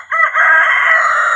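A single Rhode Island Red rooster crows loudly and close by, one sustained call with no other sounds around it.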